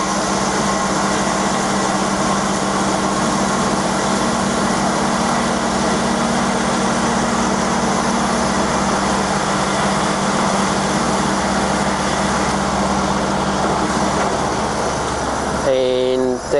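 Cosen AH-250H automatic hinge-type bandsaw cutting through stock, a steady loud mechanical hum and drone lasting throughout and ending with a short clatter as the cycle finishes.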